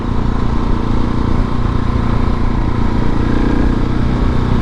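Engine of a 2019 KTM 690 SMC R motorcycle running loud and steady, a constant close drone with no pauses or talking.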